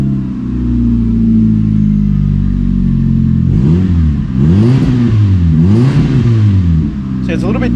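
A Hyundai Getz 1.4 twin cam track car with a custom 2-inch exhaust idles steadily after a cold start with a deep exhaust rumble, then revs rise and fall several times in quick blips before settling back to idle.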